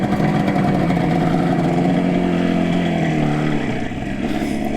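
A 1976 Yamaha RD400 two-stroke motorcycle running just after a kickstart, its engine buzzing steadily and loudly up close with a slight dip in pitch near the end, no voices.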